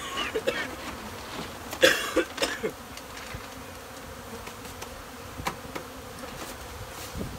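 Robbing honey bees swarm thickly over an opened hive during a late-season honey harvest, their dense buzzing droning steadily close by, with a few louder passes from individual bees.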